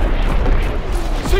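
A heavy artillery strike explodes in Call of Duty WW2 multiplayer, a loud, booming blast with rolling low-end rumble and crackling debris, with game voices heard alongside.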